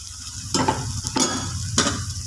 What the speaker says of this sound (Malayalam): എന്നിട്ട് നന്നായി ഒന്ന് ഇളക്കി കൊടുക്കാം ഇത് പച്ചമണം പോകുന്നിടം വരെയും ഒന്ന് പൊരിയട്ടെ